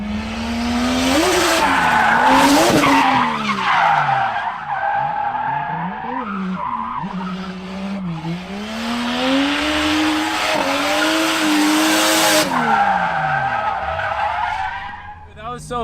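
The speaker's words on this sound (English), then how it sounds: "It's like all you hear is tire squeal." Tires on a Toyota Chaser squeal loudly and almost continuously as the car drifts along a touge mountain road, the pitch wavering with the slides under steady engine noise.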